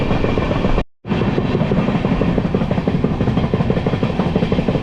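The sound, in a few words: passenger train running on tracks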